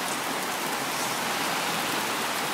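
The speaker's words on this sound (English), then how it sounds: "It's raining again." Rain falling steadily on a corrugated shelter, a dense even patter and hiss with no pauses, heard alone.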